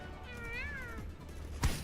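A cat meows in a single wavering, drawn-out call, fairly clear against a low background hum, followed by a brief sharp knock.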